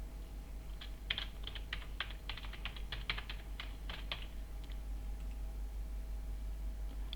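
Typing a password on a computer keyboard during admin login, a burst of quick irregular keystrokes in the first half that thins to sparse taps, close and clear over a steady low hum.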